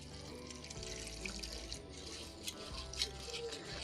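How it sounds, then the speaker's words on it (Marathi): Water poured over flattened rice (poha) in a plate for rinsing, a faint continuous splashing trickle with small irregular splashes, no voices. "पाणी टाकून हे पोहे व्यवस्थित छानसे धुवून घ्यायचे आहे"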